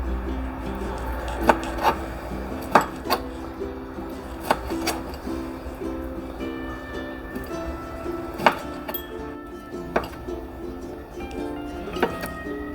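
Boiled chicken gizzard and liver are chopped with a knife on a wooden board, giving sparse, irregular sharp knocks over quiet room background, with no speech.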